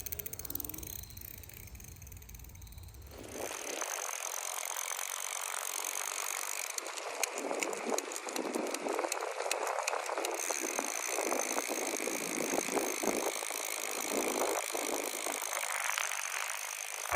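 A HeyBike Race Max e-bike rides along a road, giving a steady broadband rush of wind and tire noise that starts abruptly after a quieter opening and continues at an even level.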